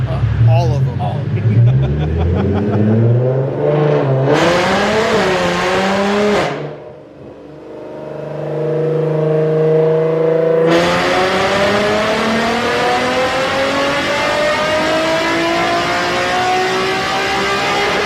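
A cammed Infiniti G37 sedan on a dyno revs hard with a loud, rising engine roar, drops briefly to a lower drone between pulls, then climbs again in a long sustained run, with voices heard over it.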